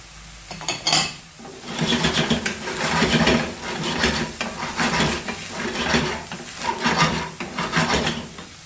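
Shredded cabbage and capsicum are stir-fried in a pan for egg fried rice, with repeated scraping and clattering of a spatula against the pan in an uneven rhythm and no voices.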